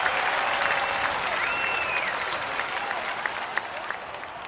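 A stadium crowd applauds and cheers after a point in a London 2012 Olympic video game volleyball match. It is a dense, sustained roar of clapping that slowly fades, with faint whistles and no clear speech.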